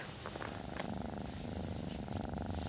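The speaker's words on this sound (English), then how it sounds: "A Bulgarian cat." A cat in a remote Bulgarian village, outdoors at minus three degrees, purrs steadily and close up, a continuous low rumbling throughout with no talking.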